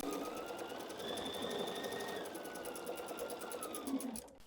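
Sewing machine stitching a quarter-inch seam in quilting fabric, a fast steady mechanical whir and patter running close and fairly quiet before stopping near the end.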